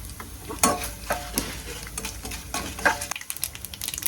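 Spices crackle and sizzle in a hot pan as asafoetida and turmeric go in, with frequent close scrapes and stirs of a spoon and a brief quieter gap near the end.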